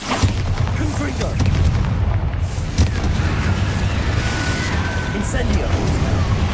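Explosive Confringo spell cast in the Hogwarts Legacy video game, with loud booming blasts and rumbling impacts amid continuous dense combat noise.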